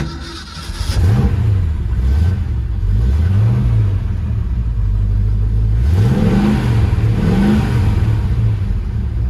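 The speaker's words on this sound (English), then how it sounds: "That's that old turbo muffler, now Flowmaster sound." A Ford Mustang Fastback with a Flowmaster muffler and a mild cam starts and then revs in several rising and falling bursts over a deep, loud exhaust rumble, heard close up.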